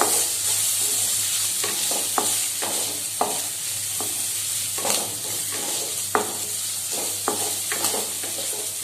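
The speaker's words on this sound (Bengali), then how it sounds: "চাট মশলা দিয়ে দিলাম। এবার এটাকে ভালো করে নেড়ে নিতে হবে।" Mutton dusted with chaat masala is stirred in a frying pan: a loud, constant sizzle with regular scraping strokes of a spatula against the pan, close and alone without talk.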